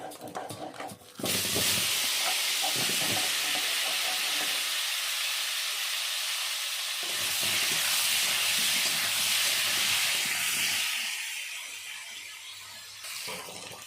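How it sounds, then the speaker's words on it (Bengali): New potatoes frying in a pan with oil while cooking shol fish curry give a loud, steady sizzle and hiss that swells and eases over time, with no talking. "এবার আলুগুলো একটু ভেজে নেব"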